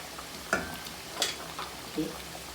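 Tamarind water poured into simmering Tirunelveli-style South Indian sambar, heard as soft sizzling and bubbling with a few splashy bursts close by.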